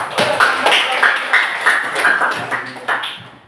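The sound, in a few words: audience applause for a student group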